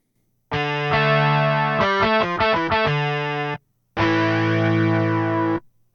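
A distorted electronic guitar from a 1992 Roland SC-33 MIDI module holds long notes with a shimmering, doubled chorus wobble, briefly stepping through a few pitches, then sustains another chord alone.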